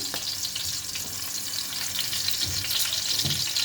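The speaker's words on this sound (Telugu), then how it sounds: "కొద్దిగా పచ్చిమిర్చి వేగిన తర్వాత" Green chilies frying in hot oil for a fish pulusu give a steady, close sizzle with faint stirring scrapes, with no voices.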